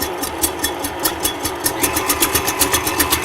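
Electric mixer whipping eggs at medium speed for an Edelweiss fudge pie, a steady close motor whir with a fast regular rhythmic beating from the whisks, no voices.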